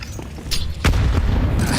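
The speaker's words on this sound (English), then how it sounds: "Again, their grenades at least help" Grenade blasts in a Counter-Strike match at a pro tournament quarterfinal, a muffled boom followed by a louder, heavier explosion about a second later, with continuous rumble trailing after.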